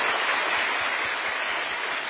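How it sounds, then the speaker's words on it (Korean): Audience applause follows a lecture to trainee fifth-grade civil servants, a steady broadband wash of many hands clapping at once, evenly sustained and fairly loud throughout. "여러분 박수 부탁드립니다."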